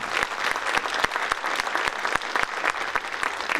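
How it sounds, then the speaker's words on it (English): A legislative session audience in Orange County, New York gives a round of applause, with individual claps standing out clearly within a lively, fairly close burst of clapping throughout. "So ladies, you deserve a round of applause."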